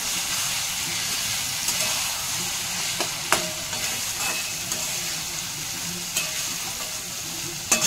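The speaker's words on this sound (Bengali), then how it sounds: "এখন ভালো করে কষিয়ে নেব।" Fish being sautéed and stirred in a pan with a little water, a loud, continuous close-up sizzle and steamy hiss punctuated by sharp utensil knocks and scrapes against the pan.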